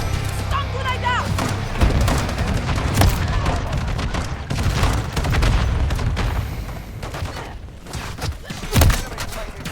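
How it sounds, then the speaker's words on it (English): A stun grenade going off in a team-based shooter video game, heavy booms and thuds mixed with rapid gunfire throughout, loud and close, with players talking over the combat. "Stun grenade out!"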